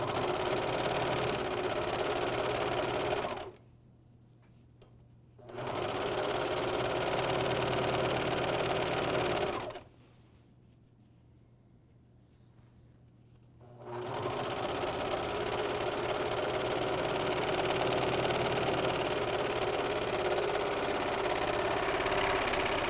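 An AirThread 2000D serger stitches a bathrobe seam, its motor whirring loud and steady for long stretches, stopping twice for a few seconds before running again at a constant speed.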